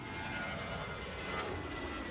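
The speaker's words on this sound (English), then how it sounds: "that's a plane landing" A landing airplane roars in a loud, steady, broadband engine rush that holds constant for a couple of seconds, close and unbroken, with no voices.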